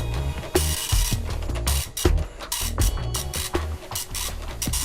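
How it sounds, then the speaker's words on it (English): A dot matrix printer on a legacy Centronics parallel connection prints plain ASCII text, giving close, loud bursts of rasping head chatter broken by rhythmic carriage returns and line-feed clunks. "Dotmatrix printer using plain generic text ASCII print data."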